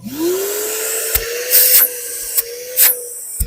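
6 gallon wet dry shop vacuum switching on and spinning up to a steady whine with hissing airflow, close and loud, with several short surges of suction noise as debris is drawn in.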